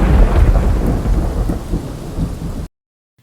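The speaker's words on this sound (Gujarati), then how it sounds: "યાત્રાધામ ડાકોરમાં સાંબેલાધાર વરસાદની એન્ટ્રી થઈ છે" Heavy monsoon rain with thunder pours down in the pilgrimage town of Dakor, a loud, dense roar with deep rumbling that stays strong, then cuts off abruptly before the end.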